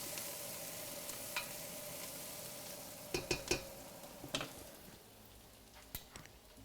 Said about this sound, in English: I hear them sizzling back here.